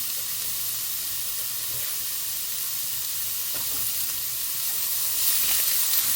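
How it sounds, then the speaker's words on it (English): Green beans and broccoli bubble in a pot of boiling water, a constant rushing, hissing roil that stays steady and grows slightly louder toward the end, with no one talking. "we can see our green beans and our broccoli are bubbling away there"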